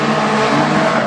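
A race car engine roars loud and close at a speedway during hobby-class racing, a brief, steady high-revving blast with no talk over it.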